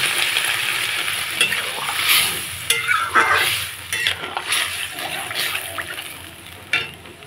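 A potato and eggplant curry gravy for hilsa fish simmering in a pot, a close bubbling hiss broken by intermittent spoon scrapes and light clinks against the pot.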